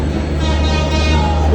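Trains rumbling at Ishwardi junction railway station in Bangladesh, a steady loud low engine drone with a faint tonal whine rising near the end, continuous and close.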